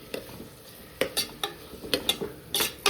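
A spoon stirs dal khichdi with tomato in a pan, giving a string of short scraping clinks in uneven bursts over a quiet background with no talking.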